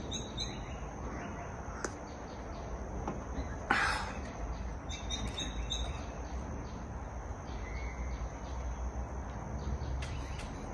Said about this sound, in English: you can hear now the birds are flying behind me and making sounds